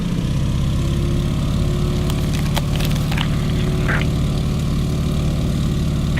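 A Stearman biplane's radial engine runs steadily after start-up in Microsoft Flight, a loud continuous propeller drone with a few faint clicks layered on top.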